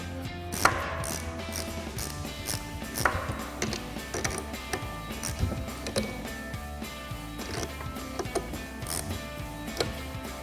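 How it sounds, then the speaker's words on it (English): Mechanical clicking and clunking from a 14mm ratchet wrench tightening bolts on a ReadyLIFT 4-inch suspension lift kit being installed on a Chevrolet Silverado 1500 truck, steady close ratcheting bursts over a low hum with no talking. "We'll go ahead and tighten those down using our 14mm wrench."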